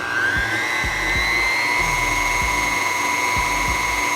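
Electric hand mixer with a whisk attachment beating condensed milk into a banana pudding mixture: a loud, steady high motor whine with rhythmic low knocks as the beaters churn, no talking.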